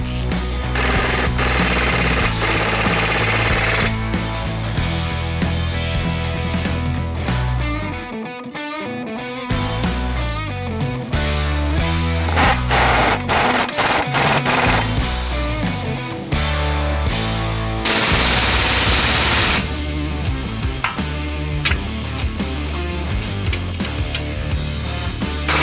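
A powered impact tool hammers in loud, rattling bursts with brief gaps while tightening ball joint and tie rod bolts on a Ford Bronco during a leveling kit install, close up and dominant with no voices.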